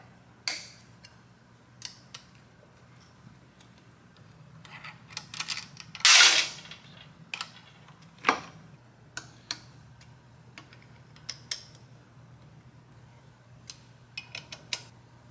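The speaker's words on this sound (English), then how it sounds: "I just got to remove pinch bolts down here." Pinch bolts are worked free from the lower fork clamps of a motorcycle fitted with a fat tire kit. Sharp metallic clicks and ratchet ticks come at irregular intervals, with one longer grinding burst midway.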